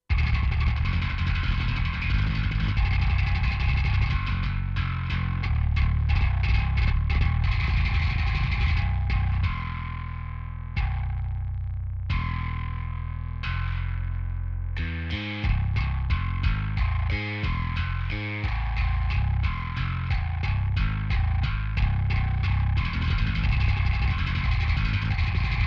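A heavily distorted electric guitar from an amp plugin plays chugging chords and palm-muted riffs, loud and continuous, with brief sustained chords in the middle.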